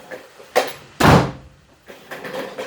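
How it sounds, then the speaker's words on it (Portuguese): A door is pushed shut during a history lecture, giving one loud, heavy thud with a short boom, set between a lighter knock before it and quieter room shuffling after. "Deixa eu fechar essa porta."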